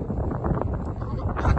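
Strong wind buffets the microphone outdoors on a high, exposed spot, a continuous loud low rumble with gusty swells and no other clear sound.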